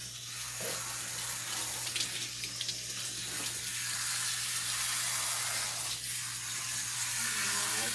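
Steady running water from a grooming tub faucet pours continuously while a dog is being bathed, a close, even hiss with a low hum underneath and no talking.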